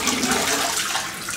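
A RazoRock Mamba .70 safety razor gets a quick rinse under running tap water, a brief, steady, close gush of splashing water.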